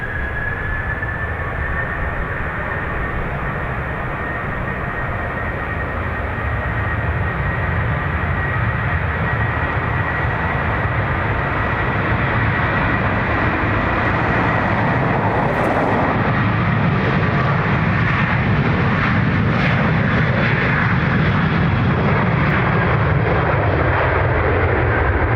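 A Ryanair airliner at Dublin Airport roars steadily and loudly for the whole stretch, a thick continuous engine rumble with a faint high whine, no voices over it.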